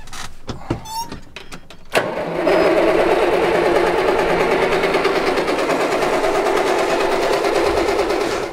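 A tractor's electric starter motor cranks with the fuel supply cut off, a steady whirring grind that runs continuously for about six seconds after a few short clicks and knocks, close and loud.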